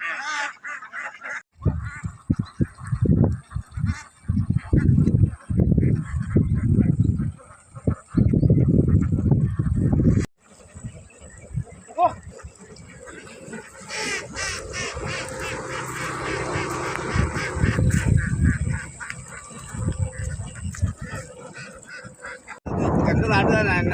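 Domestic ducks from a large farm flock quack and honk in a dense, continuous chorus, with people talking over and between the calls.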